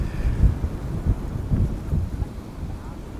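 Gusty wind blowing across a lake at a fishing venue, buffeting the microphone in low rumbling bursts that rise and fall irregularly, close and moderately loud.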